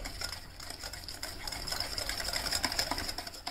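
Butter and powdered sugar are beaten together until pale and fluffy for eggless nankhatai biscuits, giving quick, rhythmic scraping and tapping of the mixing tool in a bowl, fairly faint and close, with no talking.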